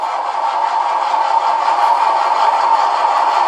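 Engine startup sound of a Tamiya RC semi truck, produced by a Beier SFR-1 sound controller, comes through as a steady mid-pitched electronic engine drone at a constant level with no voices.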